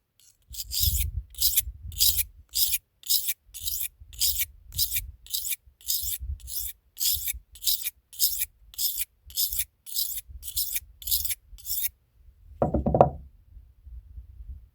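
A knife is stroked repeatedly across a Swiss Tech whetstone, about twenty even, rhythmic rasping passes close up, followed by a single duller knock near the end.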